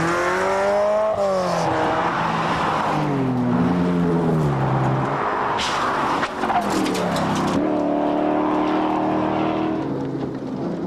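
A Ferrari competing in the 1997 TARGA Tasmania tarmac rally roars close past, its high engine note rising and falling through gear changes, loud and sustained with a brief tyre squeal as it sweeps by.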